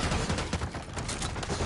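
Rapid gunfire from a Call of Duty match, with dense overlapping shots and bursts packed close together at a steady loud level throughout.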